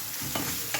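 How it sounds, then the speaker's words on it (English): A spoon stirs couscous in a pot on the stove, giving a soft scraping swish with two brief louder strokes over a faint sizzle. "I'm just gonna mix it around so it doesn't burn"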